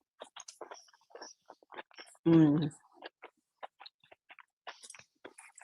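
Buttery, layered pastry is bitten and chewed, producing a scatter of small crisp crunches and crackles close to the mic, with a brief burst of voice partway through.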